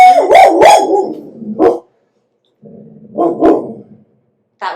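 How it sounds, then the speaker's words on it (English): A dog barks indoors, a quick pair of loud, close barks with a howling whine, then a pause, another sharp bark and a final short yip at the end. "That would be my dog."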